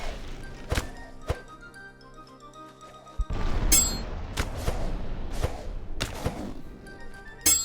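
Melee combat in the DawnCraft video game: sharp thunks and thuds of weapon strikes land one after another, with a denser flurry of impacts in the second half, sounding close and punchy over a quiet game backdrop.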